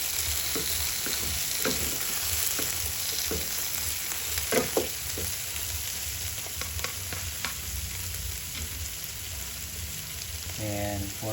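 Buttered-garlic vegetables with shrimp and chili sizzle loudly in a pan. A utensil stirs them with scraping knocks and clacks over a constant frying hiss, close up, with no voices.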